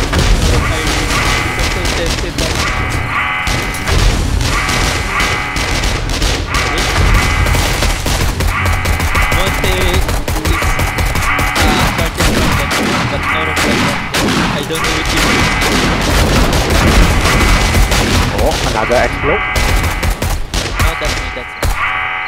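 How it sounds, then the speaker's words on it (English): Grenade explosions and bursts of gunfire from the zombie survival game 7 Days to Die during a horde night, a dense, continuous barrage of booms and rapid shots with players talking over it. "I heard an explosion."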